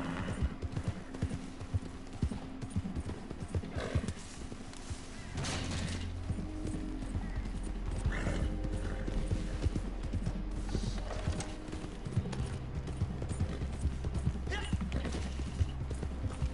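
Horse hooves clip-clop steadily in the Red Dead Redemption 2 video game, a continuous rhythmic trot with game ambience, a low rumbling bed and scattered clatter, while a voice talks intermittently over it.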